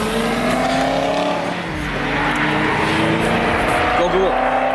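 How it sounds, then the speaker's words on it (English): A Nissan GT-R racing a Corvette at a car meet, engines roaring loudly and continuously with rising revs, with people talking over the noise. "GTR is about to race a vet."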